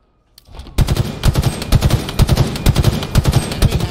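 Rapid automatic gunfire in a shooter video game during a ball-carrying match, a loud close burst of fast repeated shots continuing nearly throughout after a brief quiet start.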